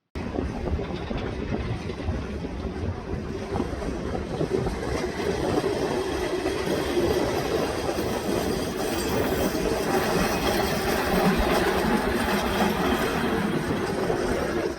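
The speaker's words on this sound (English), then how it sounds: "Let's have a closer look at these W8 class trams." A continuous rumbling rattle of a Melbourne W8 class heritage tram rolling along rails, steady and fairly close, with clattering wheels and a low mechanical drone.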